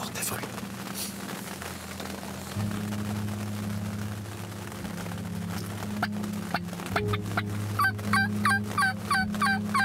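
Hunters' calls imitate wild turkeys outdoors during a turkey hunt in Quebec. The gobbling and yelping bursts grow rapid and repeated toward the end, over a steady low drone and murmured talk.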